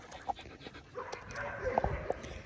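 A pregnant dog pants close by with quick, uneven breaths and a few soft whimpering notes, while people talk over it.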